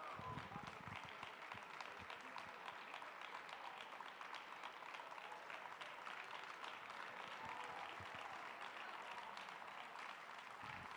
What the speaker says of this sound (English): Let's give a round of applause for Great Britain and Northern Ireland.